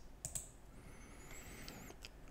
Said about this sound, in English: I will type here boot to proceed with the boot process.